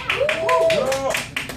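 Comedy club audience clapping during a stand-up set, a steady patter of applause from the crowd with a voice speaking over it throughout.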